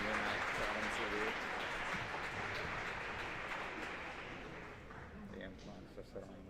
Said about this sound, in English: let's have a nice round of applause for all of our boys basketball seniors